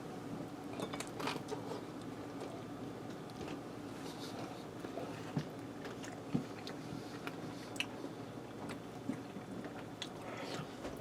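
Someone bites into and chews a bacon cheeseburger sloppy joe with garlic and cheese, making soft, wet chewing noises close up over a steady background hiss.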